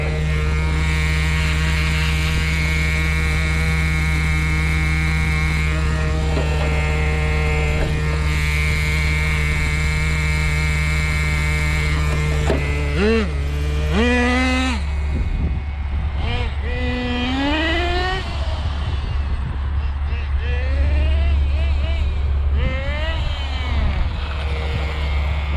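An HPI Super Nitro RS4 1/8 scale nitro RC car, running lean, makes a loud, steady high-pitched engine drone that swoops up and down in pitch as the car passes by near and then pulls away.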